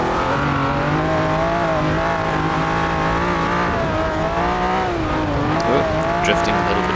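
A 1968 Ferrari 365 GTB/4 drifting in the video game Forza Horizon 4, with a loud engine holding a high, wavering rev while tires squeal continuously, close and dense throughout.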